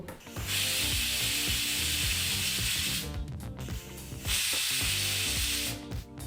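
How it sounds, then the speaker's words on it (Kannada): A pressure cooker whistles while a cauliflower and green peas gravy cooks inside, giving two long, loud bursts of hissing steam separated by a short pause, with background music playing underneath. "ಈಗ ಕುಕ್ಕರ್ ಲಿಡ್ಡನ್ನು ಮುಚ್ಚಿ 2 ವಿಸಲ್ಲು ಕೂಗಿಸ್ಕೊಂಡ್ರೆ ಸಾಕು"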